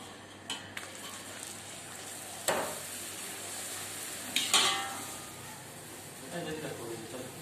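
A flatbread is laid into hot ghee in a pan to start frying for a chicken roll, giving a steady broadband sizzle with a few sharp clinks and scrapes of the utensil, heard close with faint voices in the background.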